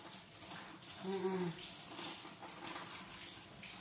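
Something being washed under a running tap, a steady close stream of water with soft splashing changes as items are rinsed, no talking over it.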